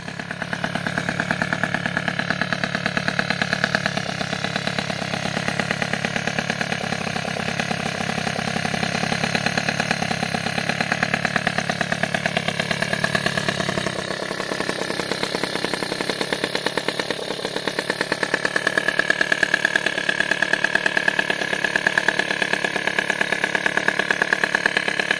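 A 70 cc Airsal T3 moped engine idles steadily and close by, a continuous buzzing putter that holds an even pace throughout with no voices.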